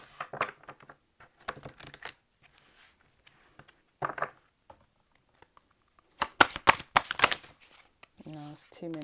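A deck of tarot cards shuffled in quick bursts of riffling, flapping and slapping, with a few cards flying loose, close and moderately loud, alternating with someone speaking between the bursts.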